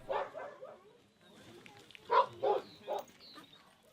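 A few sharp barks from a search-and-rescue dog at moderate distance during outdoor training near Istanbul, with faint background voices and outdoor ambience.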